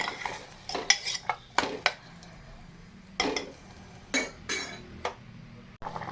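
A home pressure cooker lid is handled and shut while cooking moong dal, giving a string of sharp metallic clinks and clatters in uneven bursts, close by and fairly loud against a quiet kitchen.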